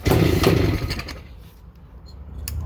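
A 1975 Suzuki T500 motorcycle engine fires up on choke, a loud ragged roar with revving bursts that drops to a quieter, uneven near-idle, then a short blip near the end.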